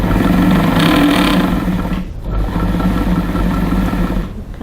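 An old Elna Special sewing machine stitching, a steady loud mechanical hum and rhythmic needle clatter running almost continuously, with a brief dip partway through.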